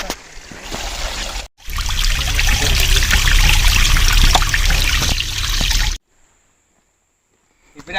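Fresh spring water trickles and splashes into a bottle beside a monsoon trail near Kataldhara Waterfalls, a loud, close, continuous pour that pauses briefly once and then cuts off into near silence.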